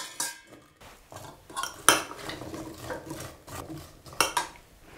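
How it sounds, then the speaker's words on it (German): A spoon stirs chopped apples and lemon in a bowl, giving irregular close clinks and scrapes against the dish, several sharp bursts spread across the few seconds with quieter shuffling between. "verrühren wir sie noch mit Zitrone."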